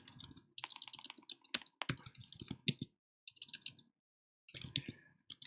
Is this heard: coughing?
no